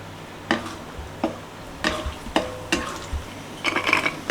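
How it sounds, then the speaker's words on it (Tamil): Ghee-fried raisins and cashews are mixed into rava laddu mixture. A spoon scrapes and knocks against the vessel in several separate strokes, close and moderately loud, with quiet gaps between them and no talking. "இப்போ நெய்யில் பொரிச்ச திராட்சையும் முந்திரியும் மிக்ஸ் பண்ணுறோம்."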